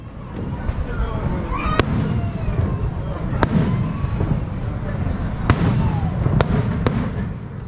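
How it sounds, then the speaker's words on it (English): A fireworks show at Niagara Falls, with a steady rumble of bursts and crackle punctuated by several sharp, loud bangs spaced a second or two apart, heard from a crowd with people talking. "We ended our day witnessing a fireworks show."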